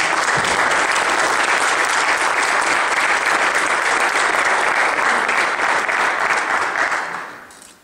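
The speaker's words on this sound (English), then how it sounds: "Let's give them a big round of applause" Sustained applause from a candidate forum audience, dense and steady at close range, holding strong for about seven seconds before fading out at the end.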